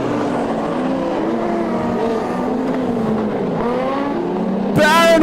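A Jensen Commodore modified production race car passes at Lismore Speedway during a night title race, its engine droning loud and steady with shifting pitch, a sharper burst of noise at the end.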